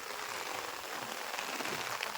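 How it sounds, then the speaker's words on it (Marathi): Heavy monsoon rain pours down over rice fields in the Konkan during paddy planting, a dense, steady hiss that holds even and loud throughout with no voices. "इथे किती पाऊस पडतोय बघा"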